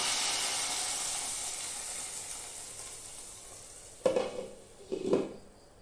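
Hot tempering poured into a pan of fish curry crackles into two sharp sizzling bursts near the end, rising over a steady background hiss of cooking.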